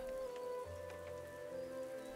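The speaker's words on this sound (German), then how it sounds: "Vor einem Teich voller Keukarpfen, auf dessen Oberfläche immer noch die Regentropfen fallen" Raindrops patter on the surface of a pond full of carp, a faint, fine crackle beneath a steady soft tonal hum.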